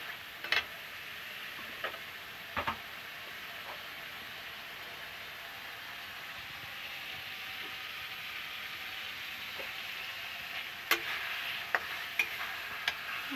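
Potatoes frying in a pan, a faint steady sizzle running throughout with scattered soft clinks and taps of a utensil stirring now and then.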